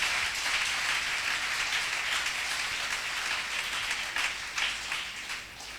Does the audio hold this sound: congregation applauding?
yes